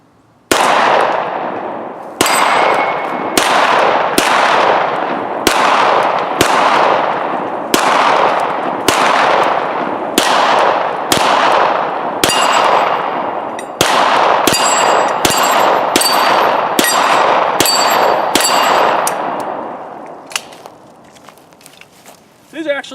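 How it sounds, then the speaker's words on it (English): A Beretta 92FS pistol fires about twenty sharp, loud shots at a shooting range. They come in a steady, fairly even rhythm, each cracking close by and ringing briefly, and a voice is faintly present between them. "I just want to kind of take it out, shoot it a little bit, see how she does."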